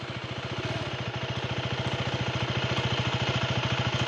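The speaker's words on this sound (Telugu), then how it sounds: "ఒకసారి అయితే వెహికల్ ఆన్ చేసుకుందాం." A KTM 390 Adventure X single-cylinder motorcycle engine runs close by with a fast, even thumping pulse that settles into a steady idle, moderately loud and alone with no talk.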